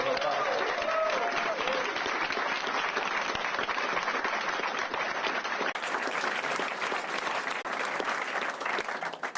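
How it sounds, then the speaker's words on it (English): A large crowd at a children's hospital emergency room announcement in Evansville breaks into sustained applause, a thick continuous roar of clapping with crowd noise mixed in, holding steady for over nine seconds. "Round of applause."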